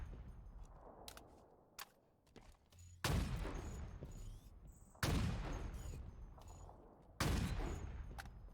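Bursts of weapon fire in Halo Infinite Forge hit dynamic objects: three loud, sharp volleys about two seconds apart, each trailing off into a short rumble, after a few quieter clicks and taps near the start.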